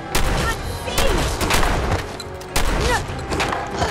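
Shotgun blasts in the video game Fallout 4, three loud booming shots spaced about a second apart, each with a sharp attack and a short decaying tail, over a busy background of game noise.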